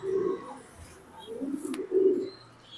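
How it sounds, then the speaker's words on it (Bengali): Soft, low pigeon coos repeat in three rounded phrases, close by, with faint background chirps and no talking. "আমি এখন একটা কবুতর দেখাচ্ছি এটা ডাইরেক্ট একটা লেদারল্যান্ডের কবুতর"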